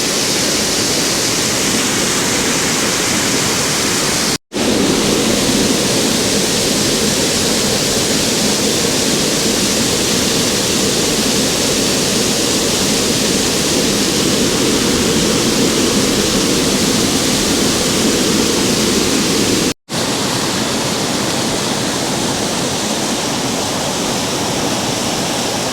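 Loud, steady roar of high-pressure water surging through the sediment flushing canal of a dam, a dense continuous rush close by with no voices.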